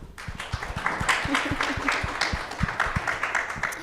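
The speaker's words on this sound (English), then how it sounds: "Let's give her a round of applause." A small audience applauds, a steady patter of hand claps lasting a few seconds, moderately close and without voices.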